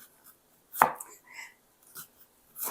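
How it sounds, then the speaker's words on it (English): A kitchen knife cuts an onion in a home kitchen with a few soft, sparse chopping taps, quiet and close, separated by short pauses, with no talk. "I'm trying to cut this onion without making a big noise"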